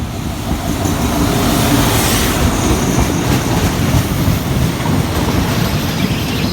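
Commuter train 351, Thonburi to Ratchaburi, pulls into a station at night, rumbling steadily nearby with continuous low wheel and engine noise and faint rail clatter, loud and unbroken throughout.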